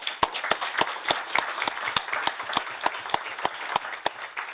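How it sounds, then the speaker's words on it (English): Conference audience applauding speakers and panellists, a light scattered crowd of clapping with distinct individual claps standing out in a fairly even rhythm, moderately close. "if we can have a round of applause for them, please."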